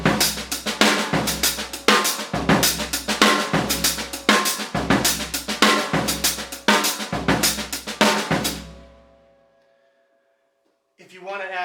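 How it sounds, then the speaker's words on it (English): A linear drum pattern on a kit, with a stepped hi-hat on the very last note of each pass; busy repeated hits in a steady looping rhythm, close and loud, stopping abruptly before a brief burst returns at the end. "I'm going to play a stepped hi-hat on the very last note of the pattern."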